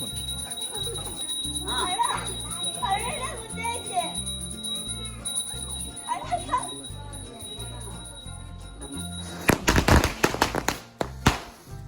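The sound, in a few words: firecrackers bursting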